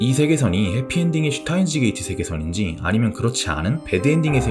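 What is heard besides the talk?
No everyday noise stands out behind the speech.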